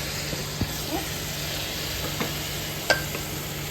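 Three large thinly sliced onions hit a hot pan for a Kerala egg kurma, giving a steady faint sizzle with a few light clicks of stirring, no talking.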